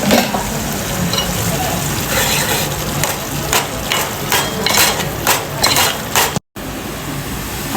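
Curry frying in a pan gives a steady, loud sizzle, with repeated scraping clatter as a utensil stirs it, close up and continuous, with one brief cut near the end.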